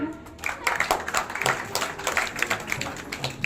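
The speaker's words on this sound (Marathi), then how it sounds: "सेकंड फ्लोअरसाठी जोरदार टाळ्या" A birthday-party audience claps for the second-floor guests, a dense patter of many hands mixed with some voices, fairly close and lively throughout.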